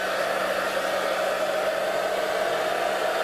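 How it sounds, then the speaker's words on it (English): A hairdryer on its hot setting blows air steadily over a phone skin, producing a constant loud whoosh and whine with no pauses and no voices. "So let's get the hairdryer."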